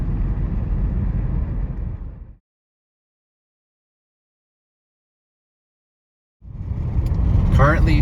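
A car rolls along a road through Tucson Mountain Park near Tucson, Arizona, its steady cabin rumble and tire noise cutting to total silence for several seconds before returning just as loud.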